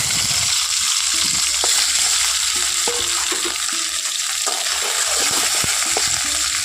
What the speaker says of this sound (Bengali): তেলটা এখন গরম হয়ে গেলে আমি দিয়ে দেব মাছের যে তেল আর মাছের এই মাথার দিকে যে কাঁটা অংশগুলো সেইগুলো দিয়ে দেবো